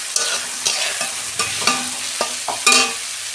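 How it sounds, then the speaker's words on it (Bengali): Onions fry in a hot pan while being stirred, sharp scraping strokes about every half second over a bright close sizzle, with no voices. "2 মিনিট আমি পেঁয়াজটা ভেজে নেব"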